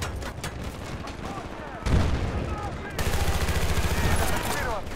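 Rapid automatic gunfire and heavy bursts from the shooter game Battlefield: Bad Company 2 ring out nearly nonstop, loud and close, with a sharp blast around the middle as the shooting intensifies.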